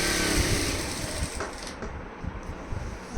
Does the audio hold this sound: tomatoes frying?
no